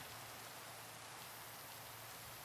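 Steady rain pours in the video game Minecraft, a soft even wash of falling drops with no breaks, quiet and alone.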